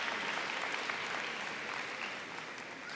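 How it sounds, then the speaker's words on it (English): Steady, dense applause from a high school senior convocation audience honoring a senior science award winner, a continuous wash of many hands clapping at an even level throughout. "One more round of applause for John."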